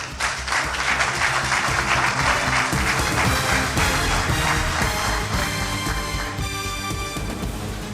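A large audience at a ManUp draft night event gives a sustained round of applause for Dr. Matthews, dense loud clapping that holds steady throughout and tapers slightly near the end.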